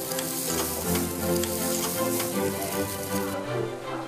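Large Korean beef galbi ribs sear over a burning rice-straw fire, giving a dense, continuous sizzle and crackle that stays close and fairly loud for the whole stretch, with no talking.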